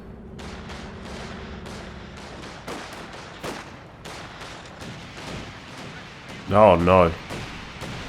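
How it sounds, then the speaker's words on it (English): A Calliope rocket barrage in the World War II strategy game Company of Heroes 2. Rapid bursts and thuds roll in a loose series behind someone commentating, with a short loud blast near the end. "So maybe we'll try and barrage this blob with that Calliope."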